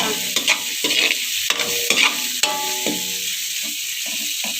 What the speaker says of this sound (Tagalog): Mix na natin yung munggo.